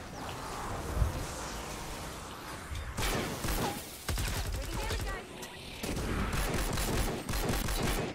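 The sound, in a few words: gunfire in video game Fortnite: Save The World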